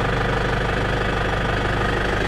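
A shredder's engine runs steadily and loudly close by, a dense, constant mechanical drone with a faint knocking pulse and no breaks.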